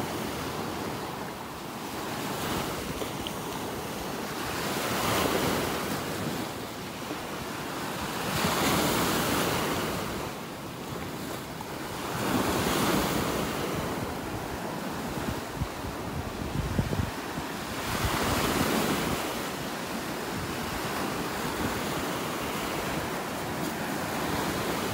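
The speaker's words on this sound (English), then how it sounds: "Some nice little waves here breaking on the shore." Small ocean waves break on a beach shore in North Naples, Florida, in steady rolling surges every few seconds, with a continuous wash of surf and some wind noise on the microphone.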